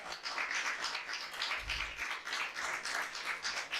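A church congregation applauding during a sermon, dense steady clapping from many hands filling the room, close and continuous without talk.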